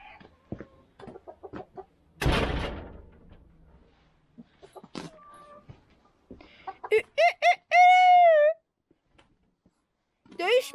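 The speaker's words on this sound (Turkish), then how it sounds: "Ama horozlar dövüşüyor." Roosters fighting in a farmyard: a sudden burst of scuffling and wing flapping, scattered clucks, then a loud drawn-out crow nearby, with a person talking in between.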